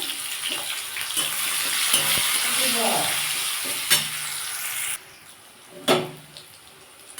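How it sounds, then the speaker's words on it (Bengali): Bitter gourd pieces with a pinch of turmeric sizzle in a hot pan, with a steady hiss broken by scraping stirs and a couple of sharp knocks of the utensil against the pan. "উচ্ছটা একটু ভেজে নেব সামান্য একটু হলুদ দিয়ে দিলাম"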